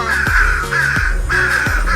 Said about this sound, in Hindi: कौवा खुशी से काए काए करने लगा